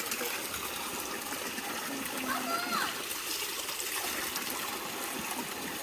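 Water splashes beside a waterfall as people scoop it over their heads, a continuous rushing wash with brief splashes and a voice faintly mixed in.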